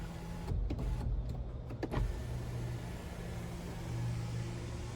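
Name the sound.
car sunroof motor tilting and sliding, GMC Acadia Denali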